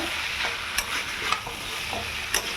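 Pointed gourd and potato stir-fried in spice paste sizzle steadily in a pan, with a few sharp spatula scrapes and clicks at irregular intervals.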